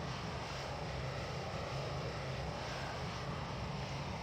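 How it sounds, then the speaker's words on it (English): A Boeing 737-800 airliner in the X-Plane flight simulator taxis with a steady, even engine drone and rumble, held at constant loudness throughout with no talking. "There's a Delta over there taxiing out at 1 mile an hour."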